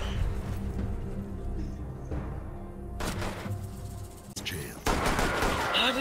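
Gunfire in a Rainbow Six Siege match, sharp shots and bursts cutting through a dense, busy game mix with several loud cracks toward the end.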